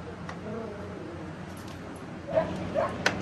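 A young puppy being crate trained gives a few faint, brief whimpering yips near the end, over a low, steady background hum.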